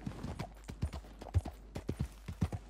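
Galloping horse hooves in the Red Dead Redemption 2 video game, a fast irregular run of close, crisp clip-clop beats with soft background noise and no talk.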